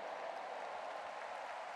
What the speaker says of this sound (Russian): Воздай Богу аплодисменты.